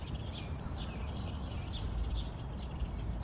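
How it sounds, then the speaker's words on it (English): Small garden birds chirp in scattered, faint tweets around bird seed in a mid-April garden, heard over a steady low outdoor rumble. "The birds have flocked over there to the bird seed."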